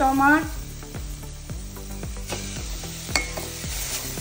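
Onions fry in oil in a pan for Goan tisryo sukha, a shellfish dish, sizzling steadily close by while a spoon scrapes and knocks against the pan in a loose rhythm, with a brief voice at the start.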